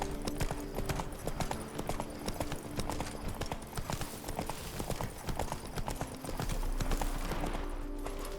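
Horse hooves clip-clop steadily in the Witcher 3 video game, a brisk continuous trot that stays close and fairly loud over a low ambient bed, with no talk.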